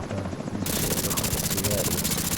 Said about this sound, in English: So came up here for this helicopter